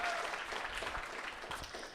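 Applause from a comedy show audience, a dense, moderately faint patter of many hands clapping together for about two seconds, fading slightly toward the end.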